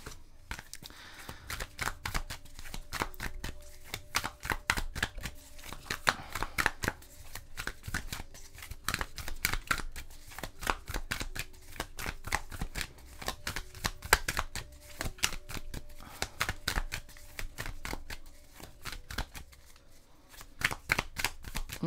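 Tarot cards being shuffled by hand, a rapid run of crisp riffling flutters and soft slaps repeating in quick bursts, close and clear with no talking over it.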